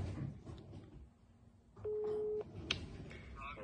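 A telephone busy signal on an unanswered call: a single steady tone of about half a second sounds faintly over low room noise, with brief clicks around it.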